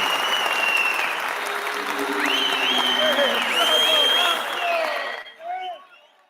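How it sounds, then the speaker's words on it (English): Crowd applause and noise at a Newcastle United versus PSG Champions League match as an injured player gets back up, a broad distant roar with whistles and rising tones on top that stops abruptly near the end, leaving brief faint sounds. "let's applaud him"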